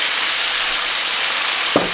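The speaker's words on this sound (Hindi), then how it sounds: "इसको हमने फ्राई करना है" Chicken pieces, about 1.5 kg, frying in a karahi give a steady, even broadband sizzle throughout, with a brief small clatter near the end.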